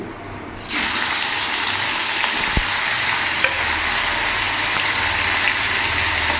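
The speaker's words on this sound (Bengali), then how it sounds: "এবার আমি ইলিশ মাছের মাথাটা ভেজে নেব।" Hilsa fish head, from a modest-sized chandana hilsa, frying in hot oil: a loud, steady sizzle starts after a brief quiet moment and holds without a break, with a couple of small pops and knocks. No voices.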